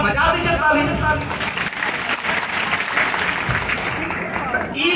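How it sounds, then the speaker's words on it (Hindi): Audience applause at a public address, a broad wash of many hands clapping that swells and holds at a moderate distance, with voices and crowd noise mixed in. "बजा दीजिए ताली"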